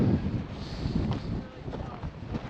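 Strong gusting wind buffets the microphone on a rocky mountain climb near Tama Lakes, New Zealand, a rough, continuous low roar that rises and falls throughout.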